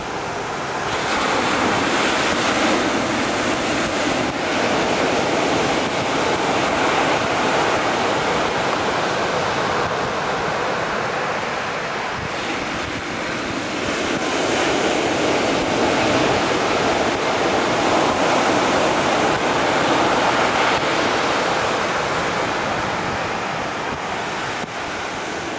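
Ocean surf rolls continuously onto the beach at Nags Head as the tide comes in, a loud, dense wash of breaking waves mixed with wind buffeting the microphone.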